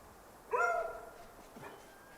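A dog in a video game barks once, loudly and near, then gives a fainter yelp a second later, alone against a quiet background.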